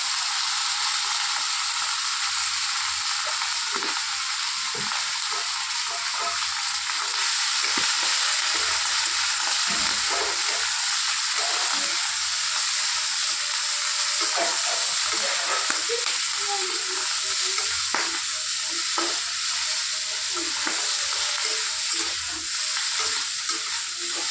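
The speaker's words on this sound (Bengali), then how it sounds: "যেভাবে আমি আলু পটলটা ভেজে নিয়েছি এভাবে আমি ফুলকপিটাও ভেজে নেব।" Cauliflower florets fry in a pan with turmeric powder, giving a steady, loud sizzle with bursts of stirring and scraping throughout and no voices.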